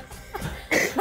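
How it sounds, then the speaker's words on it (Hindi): A person gives two sharp coughs at close range, the second following quickly after the first. "वो खांस के दिखा दिया।"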